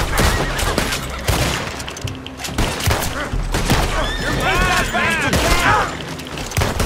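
Gunfire in the Red Dead Redemption 2 video game, sharp shots cracking out in irregular bursts against a busy game soundscape with horse whinnies in the background, while someone talks over it.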